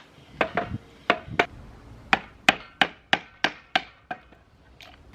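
A mortise is being cut in timber for a firewood shed, with a series of sharp, close hand-tool strikes on wood. About a dozen irregular knocks and thwacks fall in uneven bursts with quiet gaps between them.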